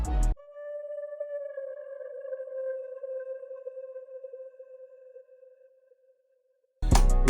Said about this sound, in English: next we got this accent from Producer Grind drum kit,